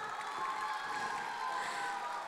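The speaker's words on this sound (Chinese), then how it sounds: "我们给他一个最热情的掌声好吗？" A convention audience cheering and applauding for the previous year's leader, a steady, distant wash of crowd noise and clapping without a break.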